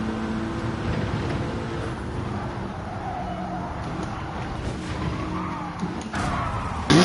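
A race car in the Gran Turismo 7 video game drones in fourth gear with its engine held high and steady, a constant loud whine with brief tire squeals near the end.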